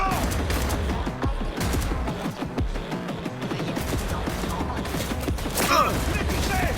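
Gunfire in the video game Cyberpunk 2077, a dense stretch of rapid shots and mechanical clatter with booming bursts, continuous and loud throughout.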